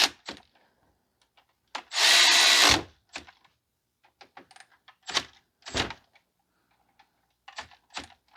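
A power tool gives one short, loud burst while tightening a front brake caliper bolt on a 2005 Toyota Corolla 1.8; scattered clicks and knocks from the work follow.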